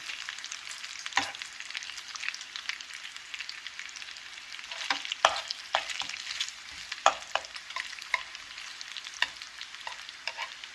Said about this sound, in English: I'm just going to go ahead and flip over the bacon. And it's cooking up very nicely